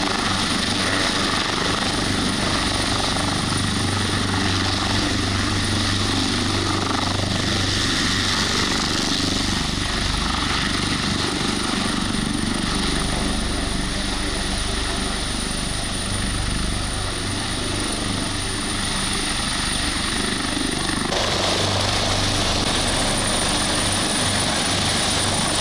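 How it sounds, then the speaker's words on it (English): The Kenyan presidential aircraft accelerating for takeoff, a loud, sustained engine roar that stays dense and steady for about twenty-five seconds, slightly shifting in tone near the end, without speech. "the presidential aircraft gains speed and prepares for a takeoff"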